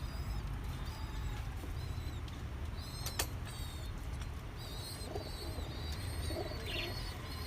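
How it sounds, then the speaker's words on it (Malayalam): Pigeons coo in soft, repeated calls close by, with other chirps and a brief sharp click in the middle over a steady background hum. "പിന്നെ നമുക്ക് ഒരു മസ്കി പ്രാവ് വരുന്നുണ്ട്."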